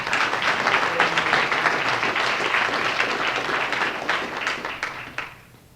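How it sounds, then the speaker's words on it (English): An audience applauds in a full, steady wave of clapping that holds loud for several seconds, then thins and fades toward the end. "An extra round of applause, please."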